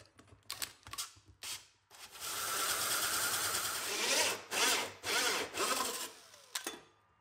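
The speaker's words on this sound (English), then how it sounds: "Now using a large 68mm hole saw, I carefully drill out the center." A 68mm hole saw drills out the center of a metal power supply casing, a steady grinding rasp running for several seconds after a few short starts, then breaking into bursts as the cut finishes.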